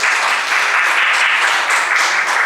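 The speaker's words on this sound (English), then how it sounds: "A big round of applause for Dr. Sheetal Sharda." Audience applause in a conference hall at the CRESCENDO 2023 endocrinology event, a loud, dense burst of many hands clapping together, continuous for the whole stretch.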